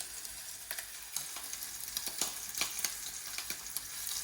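Bacon and a pork chop frying in a pan, a steady close sizzle with several sharp crackles and spits scattered through it.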